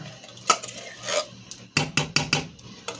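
A tablespoon works refried beans out of a 16-ounce can, giving a series of sharp metallic clinks and scrapes, a few sparse ones and then a quicker cluster of four or five, close and alone.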